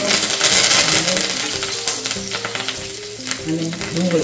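Curry leaves drop into hot oil for a tempering of dried red chillies, mustard seeds, cumin and asafoetida, giving a loud, steady sizzle and crackle with spoon stirring, close up and without speech.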